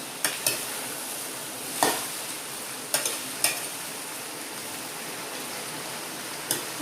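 Vegetable pieces for Kerala-style avial tossed in oil in a pan, giving a soft steady sizzle broken by occasional sharp clinks and scrapes of the stirring spoon.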